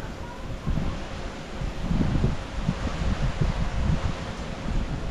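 Strong Typhoon Uwan wind buffeting and roaring in gusts on a farm, with rumbling microphone noise and rustling, loud and close throughout.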